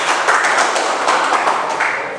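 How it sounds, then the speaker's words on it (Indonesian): Short burst of classroom applause after a student's answer, a dense patter of hand claps from a group of students in a room, loud and close, with no talk over it. "Terima kasih, tepuk tangan."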